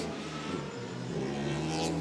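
A Formula Student race car engine drones steadily nearby at a 2019 UK competition, rising slightly in pitch as it accelerates, with no voices over the sustained mechanical whine.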